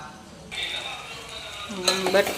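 Soaked poha being stirred and mixed in a frying pan with cooked potatoes, a soft scraping stir under a steady sizzle that grows louder near the end with a few sharper scrapes.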